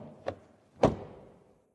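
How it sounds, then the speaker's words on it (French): Rear door of a 2024 Mazda CX-80 being shut, a light click followed by a solid, muffled thud that fades out, heard close and alone. "le bruit de fermeture de la porte arrière"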